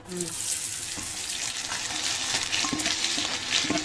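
Finely chopped onions go into a hot pan for a mutton kala bhuna, giving a steady, dense hiss of frying with faint scraping, and no talk.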